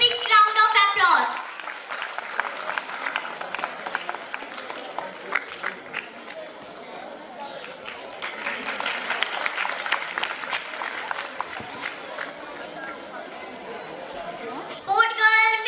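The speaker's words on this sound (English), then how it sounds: "Give a big round of applause." Applause at a school annual day prize giving, with clapping from a crowd through most of the stretch and a voice speaking over a PA at the start and end.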